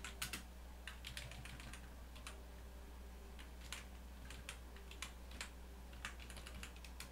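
A file name is typed on a computer keyboard: quiet, irregular bursts of individual key clicks, some quick runs and some isolated taps, set against a low steady hum.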